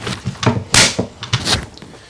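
An M16A2 rifle's buttstock trapdoor for the cleaning kit snaps open with a few quick plastic clicks and thunks, close and fairly loud, with no talking over them.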